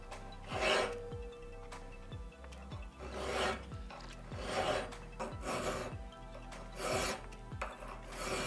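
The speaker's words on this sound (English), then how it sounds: "So first we grind the bottom surface of the front tooth." A hand file rasps across the front tooth of an ice tool clamped in a vise, taking the bottom surface flat with slow, evenly spaced back-and-forth strokes that sound close and scratchy, with no voices.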